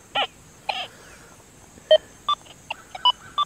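A Deus 2 metal detector on the Tekkna program gives short electronic tones over a small gold ring lying beside a rebar pole, several brief beeps of varying pitch spaced irregularly across a quiet background.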